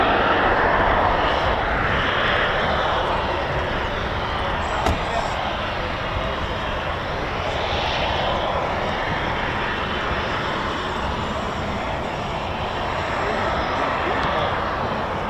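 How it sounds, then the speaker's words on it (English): An Embraer ERJ145 jet airliner approaches RAF Coningsby, a broad steady engine roar that builds and wavers, heard from a distance throughout. "We do have incoming, potentially the Embraer ERJ145."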